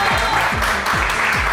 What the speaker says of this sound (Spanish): Fuerte el aplauso para Karina Stewart, esta noche nuestro espe